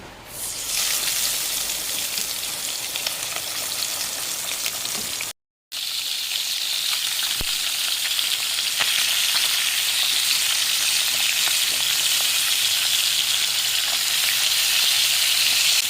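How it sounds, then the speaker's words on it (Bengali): Loud, continuous sizzling of fish head pieces frying in hot oil, a steady crackling hiss that broke off for a split second before carrying on. "মাছের মাথার টুকরোগুলোকে ভেজে নেব"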